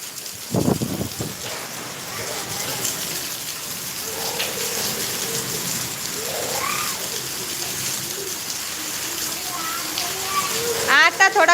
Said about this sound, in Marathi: कमी झालाय पाऊस इतक्या वेळ भरपूर पाऊस चालू होता